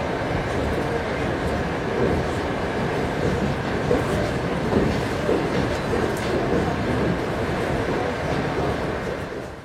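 A train crossing Siberia on a long-distance journey rumbles steadily, with a continuous broadband roll and faint clickety-clack from the rails heard from inside the carriage, constant and fairly loud throughout.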